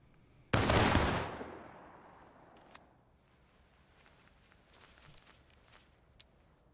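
A rifle volley fired by a rank of soldiers in the War of Rights video game: one loud, sharp, near-simultaneous crack of many muskets, then a rolling decay and faint echo, followed by quiet scattered clicks and small noises.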